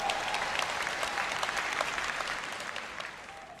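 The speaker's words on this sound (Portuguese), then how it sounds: "Alguém dê uma salva de palmas ao Senhor." A church congregation claps for the Lord in sustained, dense applause, steady and fairly loud throughout, thinning slightly toward the end.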